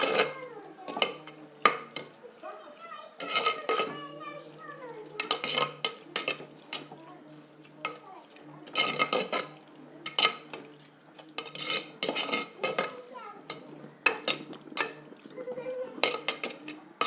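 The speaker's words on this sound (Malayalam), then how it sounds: "അപ്പോൾ നമ്മൾ ബാക്കി ചേരുവകളെല്ലാം നന്നായിട്ട് വഴറ്റിയെടുത്തു." Biryani ingredients being sautéed in a pan, with repeated scraping and clattering of a spoon against metal in irregular bursts over a soft sizzle, close and fairly loud throughout.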